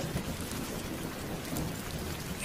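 Steady rain in an animated scary story, a continuous dense hiss of falling drops with a low rumbling undertone, moderate and unbroken, with no speech.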